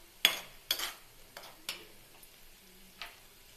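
Spices and coriander powder are stirred into a capsicum chilli dish in a pan, a few faint scraping clacks of a spoon against the pan at irregular intervals over a quiet background.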